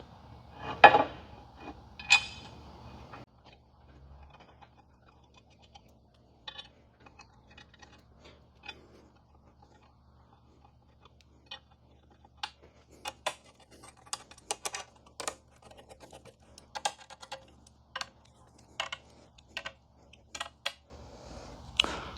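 A ratchet tightening four M8 flathead bolts on a billet luggage rack for a Can-Am Ryker gives a run of sharp, quick clicks in bursts, close and fairly quiet, after a brief stretch of louder handling noise at the start.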